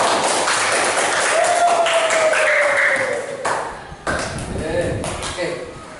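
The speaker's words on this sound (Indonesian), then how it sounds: "Tepuk tangan untuk kawan tadi." Students in a classroom applaud a classmate, a steady patter of clapping under a sustained tone, fading after a few seconds as talk resumes.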